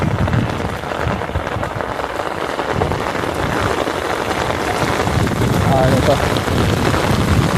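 Heavy rain lashes down with strong gusting wind in the Sertão, a loud, dense, continuous roar of rainfall close by, while a voice speaks briefly over the storm.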